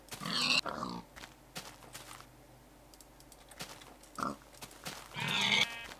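Pigs grunting in the video game Minecraft, with short oinking bursts near the start and again near the end and soft clicks and taps in between.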